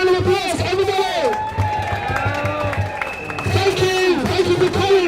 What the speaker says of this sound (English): give yourselves a big round of applause, everybody!